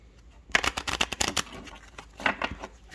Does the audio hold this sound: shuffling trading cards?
yes